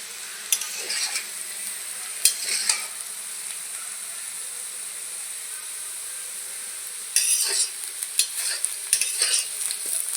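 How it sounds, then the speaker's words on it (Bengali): Potatoes, onions and chillies frying in a pan give off a soft, steady sizzle, with occasional sharp scrapes and clinks of a spatula stirring and a busier burst of stirring toward the end. No one speaks. "আলু পেঁয়াজ লঙ্কা একদম ভালো করে ভাজা হয়ে গেছে"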